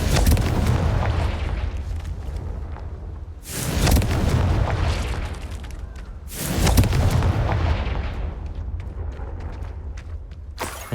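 Confringo explosive spells blast repeatedly in a Harry Potter video game, three heavy booming explosions spaced a few seconds apart, each with a loud rumbling decay, close and without talk.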